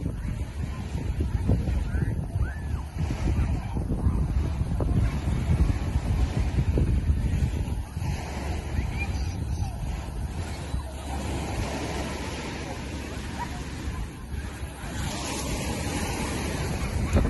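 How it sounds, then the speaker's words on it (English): Ocean waves break on a beach in San Juan, Puerto Rico, giving a continuous low wash of surf mixed with wind noise, with faint voices in the background. "So this is a lovely beach."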